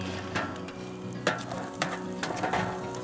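Scrambled eggs fry and get stirred in a G.I. mess kit pan over a campfire, with a steady greasy sizzle and a few sharp scraping clicks of a utensil against the metal, close and alone.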